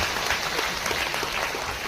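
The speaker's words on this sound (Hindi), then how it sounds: "थोड़ा सा ताली मार दीजिए।" A crowd at a foundation day gathering claps steadily, a dense, even patter of many hands held at a constant moderate level throughout, with no speech over it.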